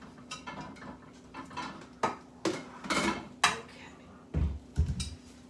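Dishes clatter and clink as a bowl is pulled out in a kitchen, with a run of irregular knocks and rattles of crockery close by and a low hum underneath.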